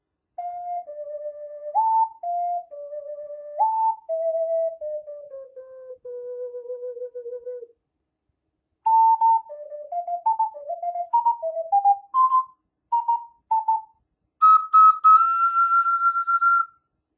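A Hyrule edition ocarina plays the Song of Time: clear, pure tones in short melodic phrases with pauses between them, close and solo, ending on a brighter, buzzier sustained note.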